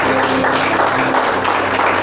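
A church congregation applauds in a loud, dense, continuous wash of clapping.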